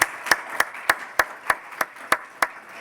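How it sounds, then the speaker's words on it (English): Clapping for presenters at a medical college event, about ten crisp claps in a steady, evenly spaced rhythm, close and fairly loud, with no talk over them. "How about a round of applause for our presenters today?"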